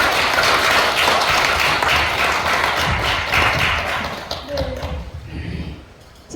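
A lecture audience at the Lee Byung-ju Literature Museum claps in a dense, steady burst of applause that thins and fades toward the end, with a few scattered claps and murmurs.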